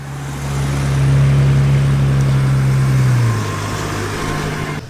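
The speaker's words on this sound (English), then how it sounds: "Lovely array of cars rolling in." Classic cars rolling into a show at Weston Park, the nearest one a steady, loud engine drone that slowly fades and drops in pitch as it passes, with fainter engines behind.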